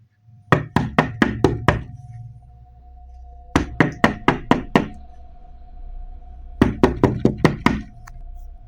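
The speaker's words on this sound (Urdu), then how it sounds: "دروازے پر دستک ہوئی، پہلے ہلکی پھر زوردار" Knocking on a door comes in three close groups of about five sharp raps each, the first set lighter and the later sets louder and more forceful, over a faint steady background tone.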